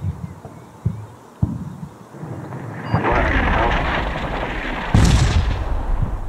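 Artillery fire in the video game Combat Mission: Black Sea, with a few sharp distant thumps giving way to a sustained rumbling barrage and a loud blast near the end.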